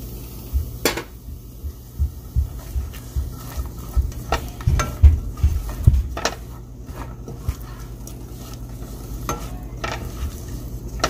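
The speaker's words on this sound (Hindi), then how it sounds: "चॉप की हुई ऑनियन डाल दूँगी।" Chopped onions frying in olive oil in a home kitchen, a steady background sizzle broken by repeated clicks and scrapes of stirring against the pan, close and moderately loud.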